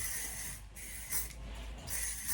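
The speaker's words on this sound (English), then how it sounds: "Perfect time to run out of hairspray." A hairspray can that is running low sprays onto styled hair, giving a faint, close, continuous hiss that briefly dips and sputters twice before resuming.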